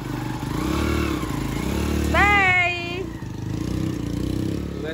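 A motorcycle carrying four people putters and revs nearby, rising briefly as it pulls away, with people talking over it.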